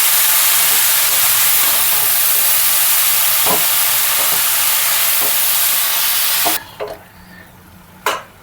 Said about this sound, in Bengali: আমি একটু নাড়াচাড়া করে নেব। মিশিয়ে নেব ভালো করে।